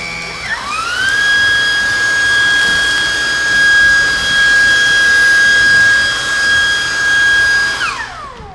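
A high-pitched vacuum cleaner screams loudly, its piercing whine rising to a steady sustained tone for several seconds before spinning down at the end.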